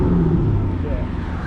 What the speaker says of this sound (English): I'll give it one quick rev.